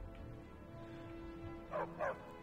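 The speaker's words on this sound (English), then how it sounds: "Alright, shut up, dog." A big dog in the Skyrim video game barks twice in close succession near the end, loud and clear over a low steady game ambience.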